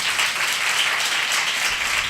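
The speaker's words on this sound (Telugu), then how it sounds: "గట్టిగా చప్పట్లు కొట్టండి" Church congregation at a Telugu Christian worship service clapping together, a dense, steady wash of applause lasting a couple of seconds at moderate loudness.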